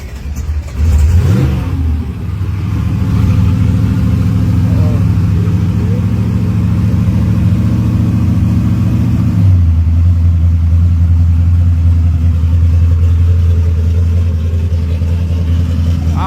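Car with big rims and drag slicks, its engine cranked up and revved hard, a loud, close, deep rumble that climbs, then settles into a heavy, steady low drone.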